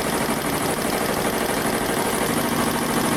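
A Blue Sky 1501 machine sews with a dense, continuous mechanical whir and rapid needle vibration, loud and close, with no pauses.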